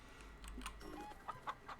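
A chicken in a farm video game clucks in short, faint bursts repeated over a low background hum, with no talk.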